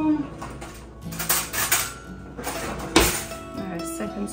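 Metal spoons clink and scrape against dishes at close range while pine needle tea and infused honey are prepared, with short bright clatters and a sharp knock near the end, mixed with faint background talk.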